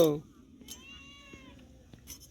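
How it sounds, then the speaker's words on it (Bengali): A house cat lets out one drawn-out, moderately faint meow near a kitchen where a hilsa fish is being cut, with quiet clatter around it. "ম্যাও করে, এই ম্যাও।"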